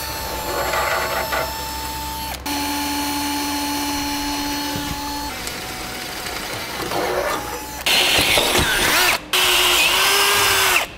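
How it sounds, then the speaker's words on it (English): A power drill bores a pilot hole through the frame of a 2002 Honda CR-V while a Blue Ox base plate is fitted. A steady, loud motor whine runs in long stretches, with brief stops and pitch changes as the bit bites into the metal. "With it marked, we can make a pilot hole now and enlarge it to the final size once our hole's made."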